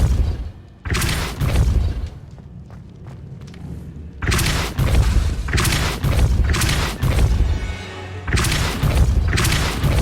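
Depulso spell blasts in the Hogwarts Legacy video game, several loud booming thuds in bursts, each a heavy broadband impact with rumbling low end, separated by quieter gaps.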